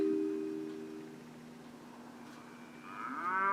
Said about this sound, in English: Oh, that's a cow.